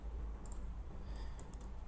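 Small, crisp computer mouse clicks while working in CATIA V5 software, a few quick clicks and double clicks, close up over a quiet room hum with no talking.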